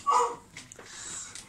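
A dog whimpers in a short, high, nasal whine that rises and trails off, fairly close, followed by faint softer whines.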